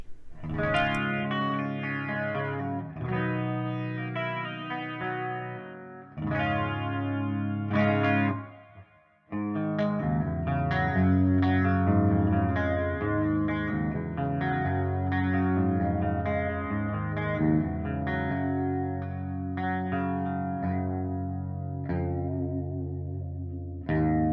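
Electric guitar through the IK Multimedia AmpliTube MAX amp simulator, with a processed tone, strums chords and picks notes, sustained and full, with a brief drop near the middle.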